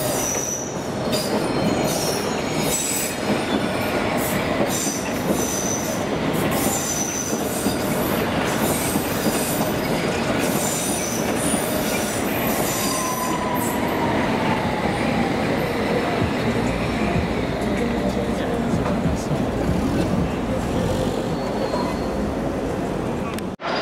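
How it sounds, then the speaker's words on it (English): A London Underground District or Circle line train arrives at South Kensington station, rumbling and clattering as it pulls in with a long squeal of wheels on rails, with people talking over the noise. "Okay, we got a district or circle line train for you."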